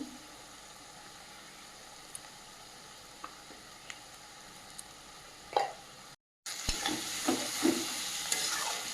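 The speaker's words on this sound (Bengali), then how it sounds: "ভালো করে কষিয়ে নেব" Goat meat with cumin powder and turmeric stirred and fried in a pan for a Bengali mutton dish, a low steady sizzle with scattered scraping taps of a spoon, growing louder and busier after a brief gap near the end.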